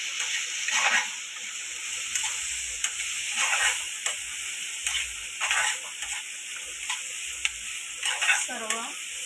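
A spoon scrapes and stirs potato bhaji frying with onion, tomato and masala, steady close sizzling under repeated stirring scrapes with brief voiced sounds in places.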